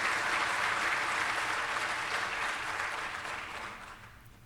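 An evening-program audience at a NASA Glenn event claps to welcome a speaker to the stage, a dense sustained applause that slowly fades, with no talking over it.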